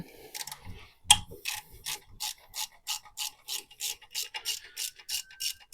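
A ratchet wrench loosens a 12mm bolt on an engine, clicking in a steady, rapid rhythm of repeated strokes, close and fairly quiet, with no talking.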